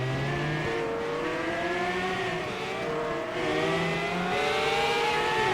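IndyCar race cars, two McLarens running side by side, their engines whining loudly and steadily, pitch sweeping up and down through gear changes as they race close together.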